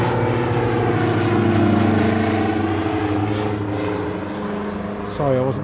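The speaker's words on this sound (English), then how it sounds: "can I hear a light aircraft?" Light aircraft flying at Newcastle Airport, a loud continuous propeller engine drone with steady low harmonics throughout, with a voice briefly speaking over it near the end.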